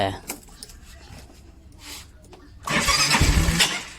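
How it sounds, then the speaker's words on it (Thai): A Yamaha Mio 125 scooter with coolant problems cranks but fails to catch, someone talking over quiet clicks before a loud, rough whirring burst of cranking near the end. "สตาร์ทแล้วเป็นลักษณะนี้ครับผม นี่ครับ นี่ครับ ไม่ติดแบบนี้ครับ"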